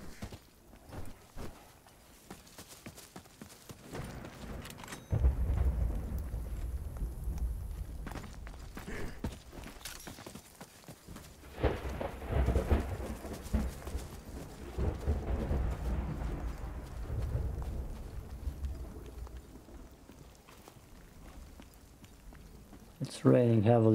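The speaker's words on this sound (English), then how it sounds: "Raining heavily, so there might be storm on the horizon anyways." Heavy rain and rolling thunder in the game The Cycle Frontier, a steady wash of downpour with deep rumbles swelling and fading over the full stretch, mixed with footsteps and a voice talking over it.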